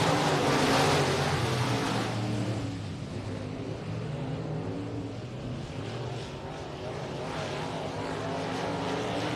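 Late model race cars are back under green flag racing at Texana Raceway Park, making a continuous broadband engine roar. It is loud at first, then eases to a steady drone, with no voices.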